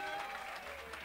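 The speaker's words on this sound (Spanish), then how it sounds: "un aplauso para todos ellos también, que se lo merecen." Nightclub crowd applauding Danny Enrique's orchestra musicians, a brief, faint, distant patter of clapping heard on its own.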